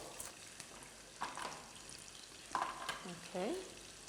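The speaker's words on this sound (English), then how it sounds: "So we're adding ginger and garlic Yes. now. Let me stir it first." On a cooking show, ginger and garlic fry quietly in a pot while a spoon stirs, making a faint sizzle broken by several scraping clinks and a short squeaky tone near the end.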